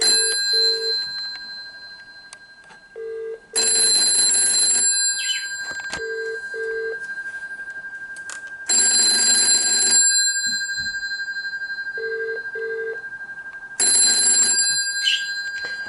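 An old telephone bell rings loudly in three long bursts separated by pauses, with softer beeping tones in the gaps between rings.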